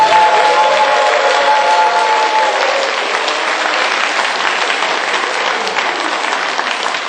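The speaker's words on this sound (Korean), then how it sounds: "같이 온 우리 옆에 동료에게도 박수 한 번 주시기 바라겠습니다" Steady applause from a lecture audience, sustained and even throughout, with no talking over it.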